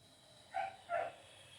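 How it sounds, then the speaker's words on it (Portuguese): Small dogs bark twice in quick succession mid-afternoon, two short, moderately distant yaps over a quiet background. "Os cachorrinhos vão acuar por aí"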